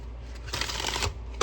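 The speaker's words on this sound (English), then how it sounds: "I've already kind of shuffled, but I'm going to shuffle again." Oracle cards riffled and shuffled by hand, heard close and fairly faint as a short dry papery flutter with a brief sharper slap at the end.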